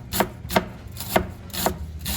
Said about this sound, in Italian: Dobbiamo innanzitutto tagliare fini le cipolle bianche